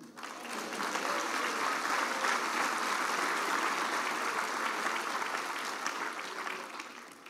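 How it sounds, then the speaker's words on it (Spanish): A church congregation bursts into sustained applause, a dense wash of clapping from a large crowd that holds steady for several seconds without spoken words. "¿Cuánto dan un aplauso al Señor?"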